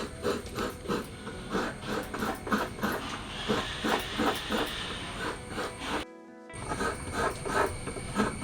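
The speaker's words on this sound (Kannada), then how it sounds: "ಈಗ ಮಾಮಿ ನೋಡಿ ತೆಂಗಿನಕಾಯಿಯನ್ನು ತುರಿತಾ ಇದ್ದಾರೆ ಪದಾರ್ಥ ಮಾಡಲಿಕ್ಕೆ" Fresh coconut grated by hand for a curry, a steady run of rhythmic scraping strokes close by, with one brief pause before the scraping resumes.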